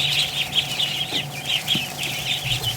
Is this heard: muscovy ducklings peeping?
yes